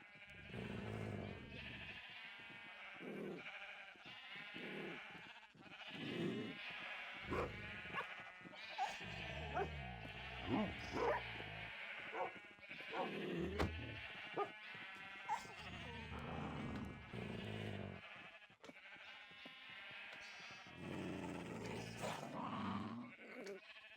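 Sheep bleating and wolves in an animal battle video game pitting ten wolves against a hundred sheep, a dense, busy stream of overlapping bleats and game effects with frequent sharp accents, mixed with voices, continuing throughout.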